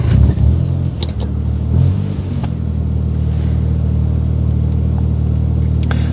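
A 1987 Mazda RX7 FC with a rotary engine drives along, heard from inside the car: a loud throttle blip at the start, then a steady, close engine drone at constant speed.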